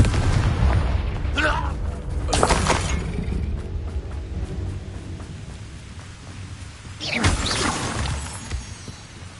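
Confringo spell explosions in the video game Hogwarts Legacy go off as deep booms with sharp crackling bursts, two near the start and one later, over low rumbling game sound and some voices.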